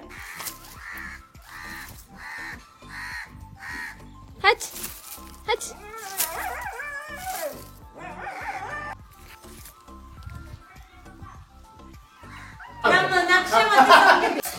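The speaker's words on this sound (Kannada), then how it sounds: "ಇವಾಗ ನೋಡಿ ಫುಲ್ ಬೊಗಳ್ತಾ ಇದೆ." A dog barks repeatedly in a rural farm setting, rhythmic yapping bursts at moderate distance, mixed with people talking and a brief louder noisy stretch near the end.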